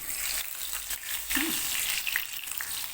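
Whole spices, including bay leaf, cardamom, cinnamon and cumin, crackle and sizzle in hot oil, a dense near hiss with scattered sputters and a brief scrape.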